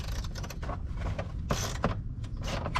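Ratchet fitted with a 10mm socket and extension loosening a bumper bolt behind the grille of a 2021-2023 Chevrolet Colorado, giving close, irregular clicking and creaking bursts over steady background noise.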